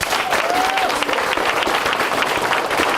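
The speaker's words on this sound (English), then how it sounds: "Now give yourselves a round of applause." Students in a school assembly hall at an early college burst into a full round of applause after a motivational speech, with steady, thick clapping throughout.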